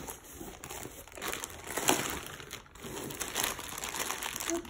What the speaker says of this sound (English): Oh, I'm just going to have to tear this one open. This box is wrapped extremely crazy.